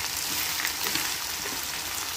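Chicken and onions fry in a kadai over a gas flame, a bright, steady sizzle close up with small crackling pops scattered through it.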